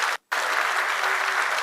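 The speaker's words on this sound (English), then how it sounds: "So big round of applause." Audience applause at a tech conference talk, a steady dense wash of clapping filling the room, briefly cut by a short silent gap near the start, then continuing evenly.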